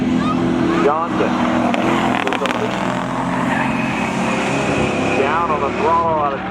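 Ford Mustang race car accelerating at a spectator drag event on a speedway, a loud steady engine roar with rising rev sweeps near the start and end, an announcer talking over it.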